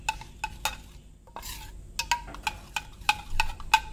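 Boiled soya chaap tossed with chaat masala in a metal bowl, a spoon scraping and clinking in a quick uneven rhythm of sharp taps, close and clear with no voice.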